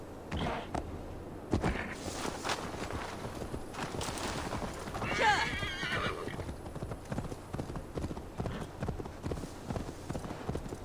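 Horse hooves clip-clop in a steady, close rhythm from a mount in the Viking game Assassin's Creed Valhalla, with a loud whinny rising midway over the ongoing hoofbeats.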